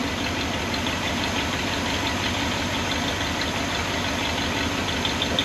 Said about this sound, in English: it was quieter until we blew that exhaust manifold gasket.